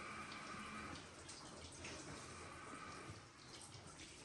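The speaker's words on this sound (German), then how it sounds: "Wir drehen das Wasser auf" Shower water in a bathroom runs steadily as a continuous hiss and splash, close and fairly loud, with no talk over it.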